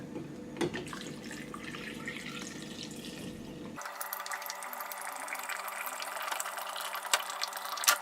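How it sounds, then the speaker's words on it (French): Spring water is poured over fruit pieces, lemon and rosemary in a container, giving a faint, steady pour with light trickling and clinks, close and quiet with no talk. "je vais mettre de l'eau de source dessus"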